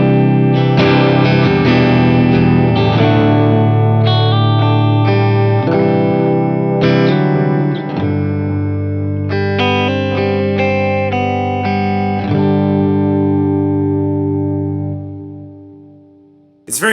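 An electric guitar plays strummed chords and melodic notes through a 7x70 analog delay pedal, the repeats adding a warm, reverb-like wash and smearing each note before it fades to silence at the end.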